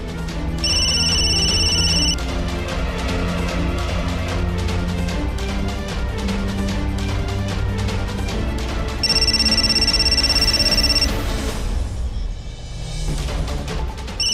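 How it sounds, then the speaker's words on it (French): A telephone rings with a repeated electronic bell tone in two long bursts separated by a pause, clear and fairly loud over a low background hum, with no voices. "Ne décroche pas le téléphone, Parvati."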